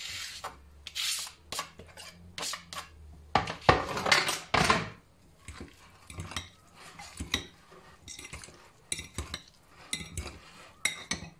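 Tuna salad ingredients being scraped and tipped into a salad bowl, with a low hum under scraping at first, then a burst of rubbing and clinking, followed by intermittent utensil taps and scrapes against the dish.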